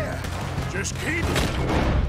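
Gunfire during a bank robbery shootout in Red Dead Redemption 2: a dense burst of overlapping shots and thuds with echoing booms, mixed with game voices and other action sounds.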